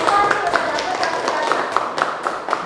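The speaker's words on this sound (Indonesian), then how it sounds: "tepuk tangan dulu lah untuk kelompok" A small group of students in a classroom claps in a steady, fairly quick rhythm, moderately close, with a voice or two underneath.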